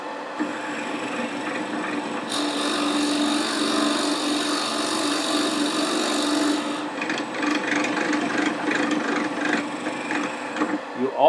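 Forstner bit boring into a wooden globe turning on a lathe, a steady close rasping, rubbing cut that runs continuously with a brighter, harsher stretch in the middle before easing back.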